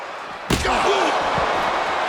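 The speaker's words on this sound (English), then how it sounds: "that disturbing sound of the kendo snapping on flesh" In the wrestling video game WWE 2K26, a kendo stick strikes flesh: a single sharp, loud smack hits suddenly, followed by a ringing echo and a continuing crowd roar.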